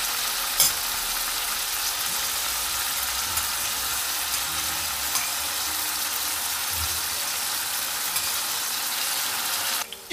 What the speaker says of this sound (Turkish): Lezzetli olması için tava tam dolmadan, aynen benim yaptığım gibi çok sıkıştırmadan kızartacaksınız.